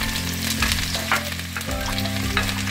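Garlic frying in hot oil in a pan, the same oil used earlier for frying chicken pieces, gives a loud, close, crackling sizzle with stirring scrapes and clinks through it.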